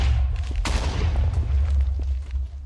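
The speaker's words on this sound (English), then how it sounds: "The pressure plate will activate the redstone dust, which will activate the TNT, as demonstrated right here." A Minecraft TNT block set off by a pressure plate and redstone dust bursts in a loud, rumbling blast, followed by crackling debris and a deep low roar that slowly fades.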